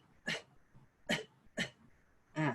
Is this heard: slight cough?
yes